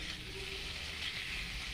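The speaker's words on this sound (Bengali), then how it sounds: "আলুটা ভেজে নেব হলুদ দিয়ে আর লবণ দিয়ে" Potatoes fry in a pan with turmeric and salt, giving a soft, steady sizzling hiss that continues evenly throughout without talk.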